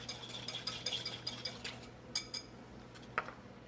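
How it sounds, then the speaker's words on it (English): A whisk beats vegetable oil and olive oil together in a bowl, making quiet, quick clinks and taps that come in a loose rhythm, faint and close up. "let's go ahead and whisk that together"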